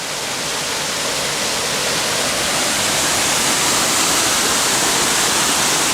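A 63-foot waterfall, Lower Doyles Falls in Shenandoah National Park, roars as a steady, loud broadband rush of falling water, continuous and unbroken throughout with no voices.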